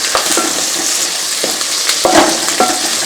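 Mustard seeds, sliced shallots, dried red chillies and curry leaves sauté in hot oil, a steady crackling sizzle broken by several brief scraping stirs of a spoon in the pan.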